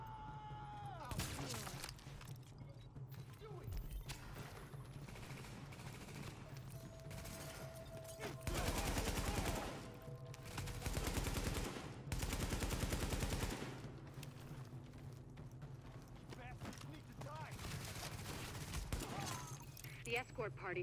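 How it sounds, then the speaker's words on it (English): Automatic AK47 gunfire in the video game The Division, several sustained bursts of rapid shots amid game sound effects and a speaking voice, fairly loud and close. "I'll just show you guys some gameplay here so you can see the AK in action"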